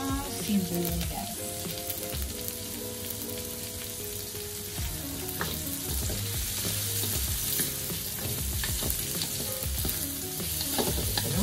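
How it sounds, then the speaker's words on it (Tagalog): Onions softening in a pan for chop suey, with a soft, continuous sizzle and repeated scraping stir strokes, fairly quiet throughout. "Palambutin lang natin yung sibuyas"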